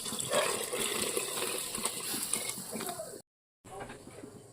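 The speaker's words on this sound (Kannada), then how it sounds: "ಈಗ 3 ಕಪ್ ನೀರು ಹಾಕ್ತಾಯಿದ್ದೀನಿ." Water gushes from a cup into basmati rice in a pot while making vegetable biryani, a close, splashing stream that runs for about three seconds, breaks off briefly, then resumes more softly.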